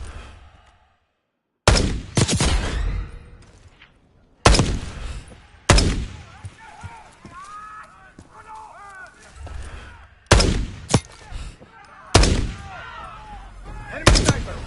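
Sniper rifle shots ring out in a Call of Duty Black Ops 6 campaign battle: several sharp, loud cracks spaced a few seconds apart, each trailing into a rumbling echo, with softer game sounds filling the gaps.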